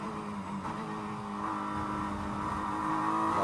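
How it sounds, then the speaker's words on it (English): A GT race car at Sebring International Raceway winds up through the gears flat out, its engine a steady, continuous drone that climbs gradually in pitch and loudness, with no voices. "Then you're winding up through the gears through Bishop, flat out through here."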